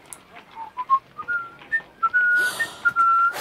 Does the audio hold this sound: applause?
no